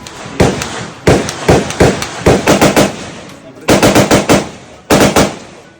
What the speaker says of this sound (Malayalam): പിന്നിൽ AK-47 ആണ് ഫയർ ചെയ്തുകൊണ്ടിരിക്കുന്നത്.